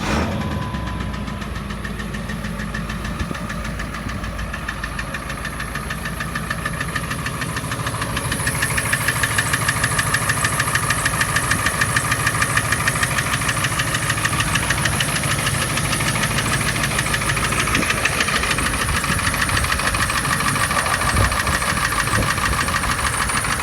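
Ford 7.3 Power Stroke diesel with stage 1.5 injectors idles alone with a steady metallic knocking clatter and hiss, growing louder and harsher after about eight seconds and holding a constant rhythmic rattle.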